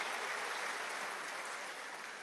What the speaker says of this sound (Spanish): Un aplauso a este joven ministro de la cultura